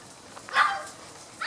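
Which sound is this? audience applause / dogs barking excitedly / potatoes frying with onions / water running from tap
dogs barking excitedly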